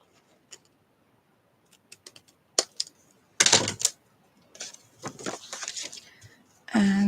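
Scissors trimming the glued edges of a handmade journal, heard as scattered sharp snips and clicks, then a few longer crisp cutting bursts, close and fairly quiet with gaps of silence between them.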